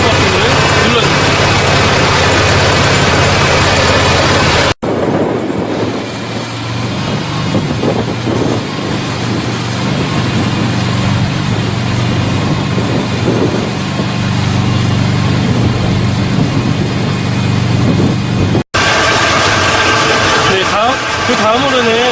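The booster pump on a forest-fire truck runs as a loud, steady mechanical drone that dominates throughout with abrupt cuts between sections, while someone talks over it.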